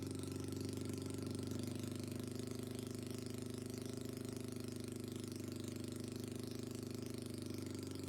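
A small moped engine idles steadily, a continuous low putter without revving or change throughout.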